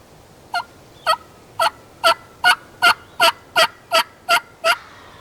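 An Eastern wild turkey gobbles in a Mississippi woods, about ten evenly spaced loud calls over five seconds, each a rapid rattling burst, clear and fairly close with no talking.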